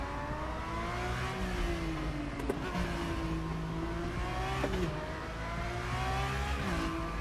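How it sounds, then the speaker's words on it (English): A race car engine in the RaceRoom racing game at Interlagos drones loudly and continuously, its pitch rising and falling as it revs through gear changes, with a couple of brief sharp shifts. "that car sounds good"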